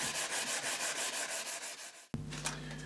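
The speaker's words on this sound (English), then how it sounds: "we're now going to just get rid of some of this rippling and sort of uneven finish just by flattening it out with varying grades of sandpaper" Sandpaper worked by hand over a carbon fibre fishing pole repair to flatten an uneven finish: quick, even back-and-forth rubbing strokes in a steady rhythm, close and fairly quiet, then a shift to a coarser, brighter scraping near the end.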